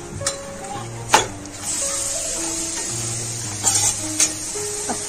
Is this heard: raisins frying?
yes